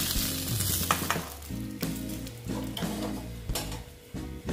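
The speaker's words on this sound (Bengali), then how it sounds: "এই মাছগুলো ভাজা হয়ে গেছে।" Bata fish sizzle and crackle in hot oil, a continuous loud frying hiss with sharper pops throughout.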